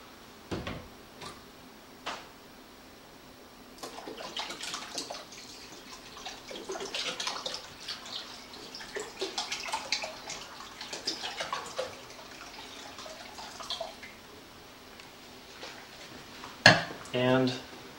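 White vinegar being poured into a pot for homemade ketchup, with an uneven splashing pour of liquid, brief knocks before and after, and a sharp clatter near the end.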